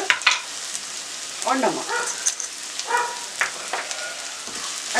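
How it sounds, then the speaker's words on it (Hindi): Dry powdered spices (red chilli, turmeric, coriander, fennel) stirred and fried in a pan on low heat for a spicy okra gravy, with a spoon scraping in short bursts over a soft sizzle, and brief speech near the start. "अच्छे से सूखे मसालों को मिक्स कर लेंगे"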